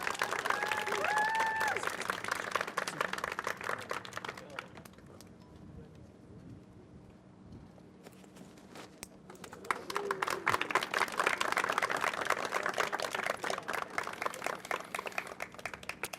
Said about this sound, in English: Please give Jennifer a big round of applause.